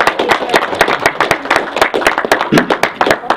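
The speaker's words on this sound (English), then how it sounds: "I want to give him a big round of applause" A crowd at a BPP Southern Council campaign launch claps for Brother Parker Smith, a close, loud burst of individual hand claps in a quick, uneven rhythm with no talk over it.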